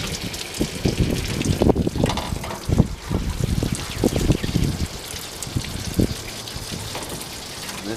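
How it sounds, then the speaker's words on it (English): A pressure washer fitted with a light-pressure tip sprays water into a car's wheel well, a loud gushing hiss in uneven bursts and sweeps, with splashing runoff between passes and no talking. "I'm going to be using a pressure washer with just the light pressure tip on it."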